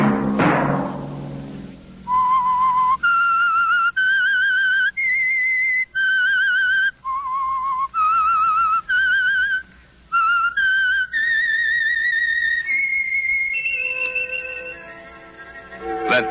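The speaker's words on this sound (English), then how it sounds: "Let that whistle be your signal for the Whistler each Sunday night at the same time" A lone whistler performs the eerie melodic theme signal of The Whistler radio show, a sequence of clear sustained whistled notes rising and falling, heard alone after a brief fading sound at the start.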